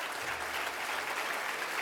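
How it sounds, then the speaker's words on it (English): Applause from an audience at a public session on the future of Eastern Kentucky, a steady wash of many hands clapping at moderate distance, fairly soft and continuous with no voices over it. "Let's give them a big round of applause."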